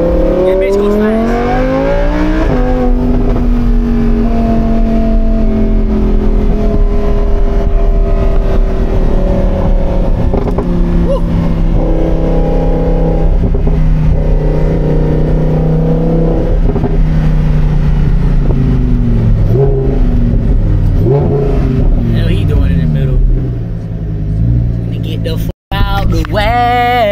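Engine of a Lamborghini Huracan with traction control on, revving and accelerating loudly and steadily with rising pitch throughout, under people talking inside the car.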